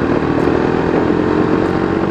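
A 2022 Bajaj Dominar 250 BS6 motorcycle engine runs steadily up close, giving a loud, even mechanical drone with no change in pace and no voices.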